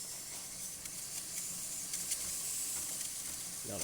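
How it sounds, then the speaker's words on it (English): Steady, close hiss of steam from the steam wand of a Breville Barista Express espresso machine after servicing, continuous and even throughout with no talk over it. "Now it's going to be making really nice and steady steam"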